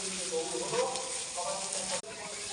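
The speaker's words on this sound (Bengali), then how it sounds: "আর এখানে তো মশলা কষা হচ্ছে।" Spices frying in a pan for a Bengali khichuri with vegetables: a close, continuous sizzle with soft stirring scrapes, briefly interrupted near the end.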